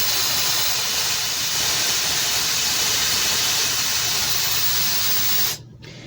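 A Slopehill ionic hair dryer runs on its no-heat setting, giving a constant close rush of air that holds steady, then drops off sharply near the end as it switches off, leaving quiet room tone.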